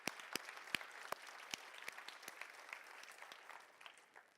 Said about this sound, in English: can we give a round of applause to the fantastic organizers of this event?